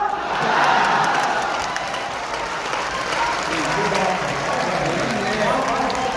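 A large crowd at a poetry recital in Bihar applauds and cheers, a thick roar of clapping with shouts mixed in. It swells early, then holds steady and loud throughout.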